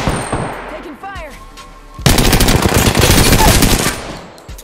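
A sudden burst of loud, rapid machine gun fire in the battle royale game Apex Legends follows a quieter stretch of game sounds and a few chirping tones, and the burst holds steady for about two seconds before tailing off.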